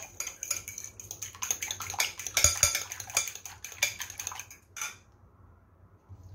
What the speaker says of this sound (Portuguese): Ó, deu uma batida nos ovos com sal.